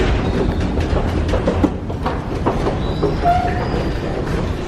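London Underground train running on the Northern Line, a steady loud rumble of wheels on track with a brief squeal of wheels, heard from inside the carriage with no talk.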